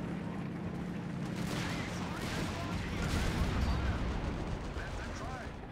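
Tiger tank guns open fire in Company of Heroes 3, a World War II strategy game, amid dense continuous battle noise of gunfire and explosions that stays loud throughout.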